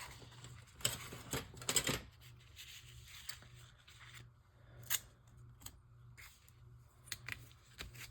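Scissors cutting paper for a junk journal, close and fairly quiet, with a run of crisp snips and slicing strokes broken by short pauses and light paper handling.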